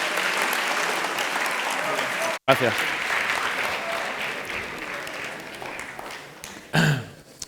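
An audience at a library's Book Week opening event in Cartaya claps warmly for a guest, steady applause that cuts off briefly, resumes and fades, with a spoken thank-you near the end.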